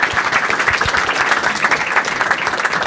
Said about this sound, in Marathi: एकदा या दोघांसाठी टाळ्या